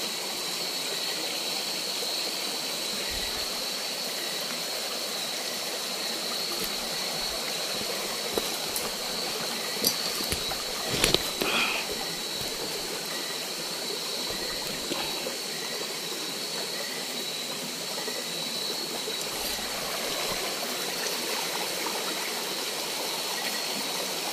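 Steady broadband rushing of a flowing stream, constant and unbroken, with a faint high hiss and a few small knocks partway through.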